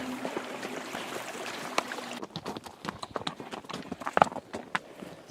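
Horse hooves clip-clop along a rough, overgrown trail, a close run of uneven hoofbeats that grows sharper and busier partway through, with no voices.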